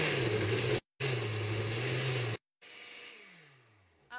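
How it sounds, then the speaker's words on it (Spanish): A kitchen blender purees tomatoes, onion and garlic with consommé, oregano, cumin and warm water for a tomato sauce. It gives a loud, steady whirring drone that cuts out twice, then winds down and fades to a quiet hum. "Vamos a licuar."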